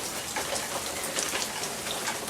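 Storm rain blows in onto the side of a porch, a dense, steady hiss of drops striking surfaces, loud and continuous with no voices.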